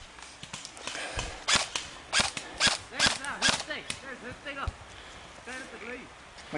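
Airsoft guns fire during an outdoor airsoft game, a string of sharp, snappy pops in irregular bursts, some close and loud, others fainter, with people talking between the shots.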